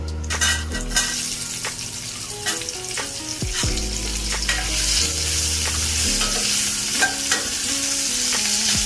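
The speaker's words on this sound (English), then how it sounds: "Let's saute the onions until they are golden brown." Onions sauté and get stirred with well-roasted masala in a pan for a dhaba-style Punjabi bhindi masala, giving a steady loud sizzle broken by scraping, clinking spoon strokes against the metal, with no talking.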